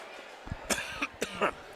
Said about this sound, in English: I need to stave off a coughing fit here.